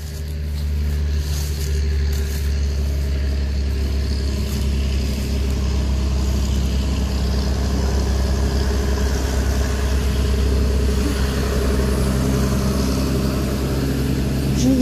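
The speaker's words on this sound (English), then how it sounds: "I'm guessing a tractor is coming?" Tractor on a rural Vermont road near Weybridge Hill Cemetery, its low diesel engine rumbling steadily and growing slightly louder as it approaches, with no talk.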